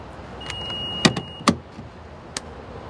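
Hydrogen fuel cap being closed on a 2017 Honda Clarity: a few sharp close clicks and snaps spaced over a few seconds against quiet background, no voices.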